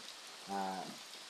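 Heavy rain in the mountains makes a steady hiss, and a brief voice sounds over it.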